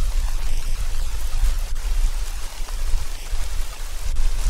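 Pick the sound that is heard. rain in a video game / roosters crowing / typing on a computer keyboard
rain in a video game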